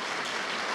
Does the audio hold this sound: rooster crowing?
no